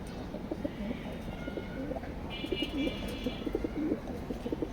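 Racing pigeons coo in a loft, low soft repeated cooing running steadily through the clip against a rough background hum, with a brief higher chirp midway.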